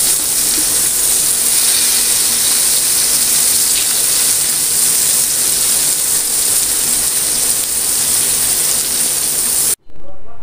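Surmai fish slices fry in a pan for a Malvani-style fish thali, producing a loud, continuous hissing sizzle that runs steadily and then cuts off abruptly just before the end.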